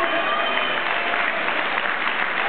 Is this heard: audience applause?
yes